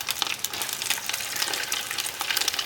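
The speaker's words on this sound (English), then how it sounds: "start frying up your chicken in small batches" Chicken pieces fry in hot oil at about 180 degrees, a close, steady crackling sizzle with bright bubbling pops and no talking.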